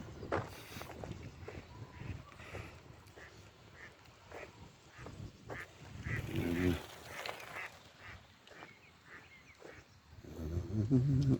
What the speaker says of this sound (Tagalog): Pato-pato yan.